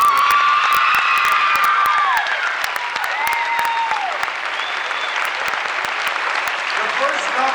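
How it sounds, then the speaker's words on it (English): An audience at a 1991 eighth-grade spring school concert gives a full, sustained round of applause after the band's performance, with a few whistles and cheers mixed into the steady clapping. "I think they deserve a great round of applause"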